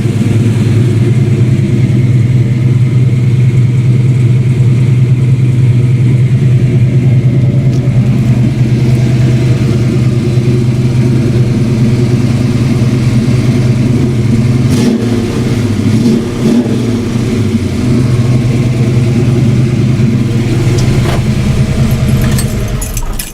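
A Ford Mustang engine runs loud and close with a throaty, slightly raspy note through a temporarily patched exhaust, holding a steady idle with a few brief revs near the middle.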